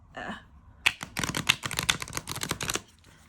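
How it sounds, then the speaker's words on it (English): Rune oracle cards, tall and a bit hard to handle, riffle and snap in a quick run of crisp shuffles at close range after a brief soft shuffle, with no talking. "Yeah, they shuffle well."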